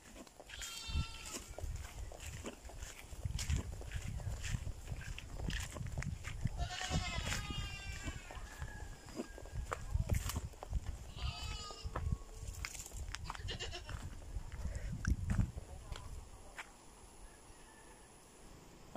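Goats bleat repeatedly at a rural coastal spot, several wavering calls rising over steady outdoor background noise, with occasional rustling and handling sounds in between.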